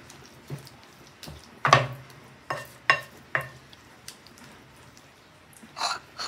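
A spoon stirs moringa leaves into cheesy sardines in a pan, giving a series of separate scraping, clinking strokes at an uneven pace, close and fairly loud against a soft background.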